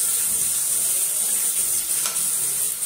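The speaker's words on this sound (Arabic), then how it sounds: "هنصفر بس التوم بتاعتنا" Garlic sizzles steadily in a hot pan, a continuous close, bright frying hiss with light stirring, and no voices over it.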